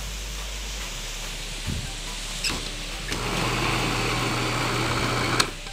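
Kitchen blender mixing banana, avocado, mushroom and ice cream, run in short pulses rather than continuously: a whirring motor starts partway through and hums steadily under background noise, with a few clicks and knocks.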